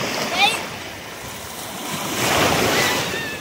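Ocean surf at a beach, waves swelling and washing in with gusty wind, a continuous broad roar rising toward the end, with faint voices in the background.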